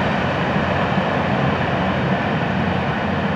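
FEC 920 local freight train passing southbound, a steady, dense rumble and rolling roar close by, unbroken and even in loudness throughout with no voices.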